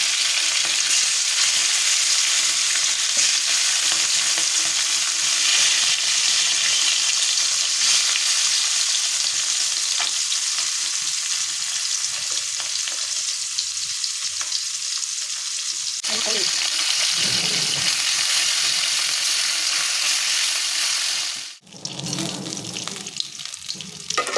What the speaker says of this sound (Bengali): মাখিয়ে এবার কড়াই তেল দিয়ে দিয়েছি, দিয়ে মাছটা দিয়ে দেবো।